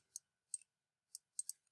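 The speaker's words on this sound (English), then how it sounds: "I'm going to type this into my calculator" Numbers tapped into a calculator: five light, crisp clicks in an uneven rhythm, close and quiet against silence.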